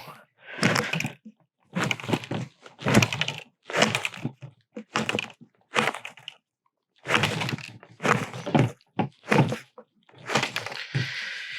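Staples being pried out of an upholstered fitness pad during a teardown, giving a steady run of sharp, close metallic clicks and crunchy snaps, each a brief burst separated by short pauses, with no talking.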